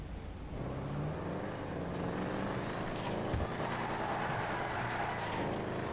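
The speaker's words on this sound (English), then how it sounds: "Boom, car revs up, tires start spinning" A car engine in GTA V revs up and holds a steady, loud drone with a rising growl, close and continuous, with no voices.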